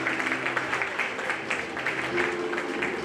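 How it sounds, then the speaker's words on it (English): Dense, steady applause from a large crowd at a degree college inauguration ceremony, with cheering voices mixed into the continuous clapping. "Let us welcome them with a big round of applause."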